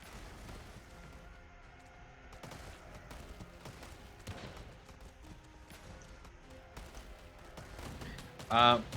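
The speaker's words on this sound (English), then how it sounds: "We have a massive tank battle essentially." Heavy gunfire from a massive tank battle in a free-for-all video game match: dense, overlapping shots and blasts rattle on continuously, with a louder burst of explosions near the end.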